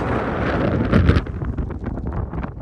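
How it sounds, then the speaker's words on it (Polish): Strong wind gusts buffet the microphone near a Himalayan hilltop at about 3,800 metres, a loud broadband roar with a sharper surge around the one-second mark, then fluttering, uneven blasts. "bardzo silny wiatr"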